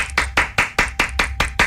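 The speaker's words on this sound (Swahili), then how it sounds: "Wacha nikupigie makofi." Two hands clap nine times in a steady, even rhythm, sharp and close, each clap ringing out briefly before the next, with no talk between them.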